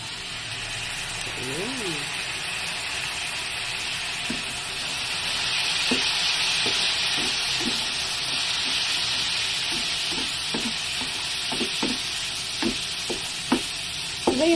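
Soy sauce poured into a pan of honey garlic chicken, giving a steady loud sizzle with frying crackle and occasional stirring scrapes, while a person talks over it.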